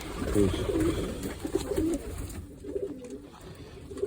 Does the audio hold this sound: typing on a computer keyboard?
no